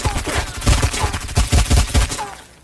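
Rapid bursts of video game gunfire and explosions from the Omega Legend shooter, with repeated loud volleys and a dense, continuous, close-up crackle.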